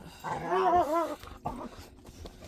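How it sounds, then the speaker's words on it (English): A puppy making playful growling, whining dog sounds, a short wavering vocal burst up close followed by quieter thumps and shuffling. "And now the puppy's playing."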